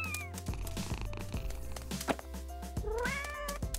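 A cat meows several times, with rising, wavering cries in short bursts against a busy background of soft clicks and thuds.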